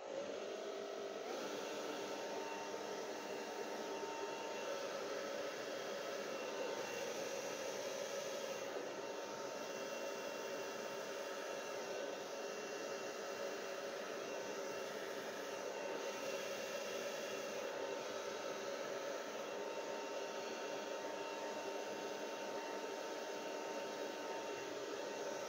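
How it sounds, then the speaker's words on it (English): A steady, loud stream of blown air playing across wet acrylic paint on a pillow-shaped canvas, a continuous whooshing hiss with no pauses for the whole stretch. "I only blow from the edges outwards."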